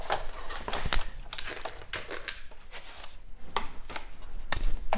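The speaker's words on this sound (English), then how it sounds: "So we're going to cut that with the die" A die-cutting machine cutting paper cardstock, a close run of dense crunching and clicking pressure noises, steady and rhythmic, with no talk.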